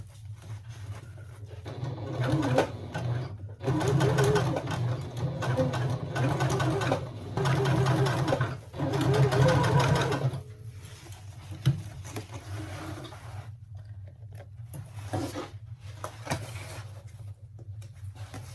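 A sewing machine stitches a tote bag in several quick bursts of rapid mechanical chatter, separated by short pauses and lighter handling taps, close and fairly loud.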